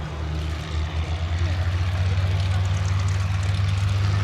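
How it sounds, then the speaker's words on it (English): A Boeing B-17G Flying Fortress rolling for takeoff at a Duxford airshow, its piston engines giving a loud, steady, throbbing drone that swells after a moment and holds. "Rolling now for takeoff, one of the great Duxford favourites, the Boeing B-17G Flying Fortress"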